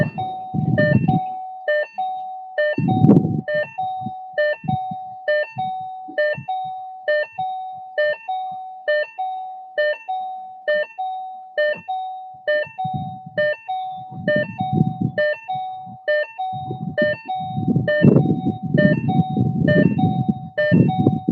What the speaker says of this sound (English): Apologize for the ringtone music that you're listening to.